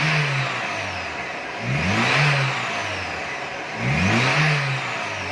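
A 2010 Lada Niva with a 1.7i fuel-injected engine revs up three times in close succession, each rise climbing from a steady mid-pitched idle and falling back, loud and close with no talk.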